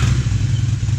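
Honda Shadow Phantom motorcycle fitted with a custom exhaust, idling loud and close with a steady, throbbing low rumble and slight clatter for about a second, no talking.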